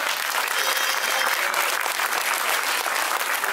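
Sustained audience applause at an evening Lady and Lord pageant show in Réunion, dense and even with steady loudness throughout, no voices over it.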